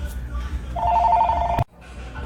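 A telephone ringing for an incoming hotline call, a single burst of bright warbling trill heard under background chatter that cuts off abruptly.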